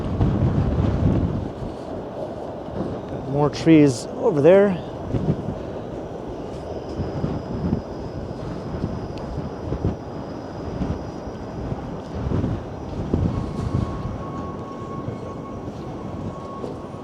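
Gusty wind between skyscrapers in Toronto's Financial District buffets the microphone in loud, uneven bursts over rumbling rush-hour city traffic, with a brief tonal whine and a short spoken remark.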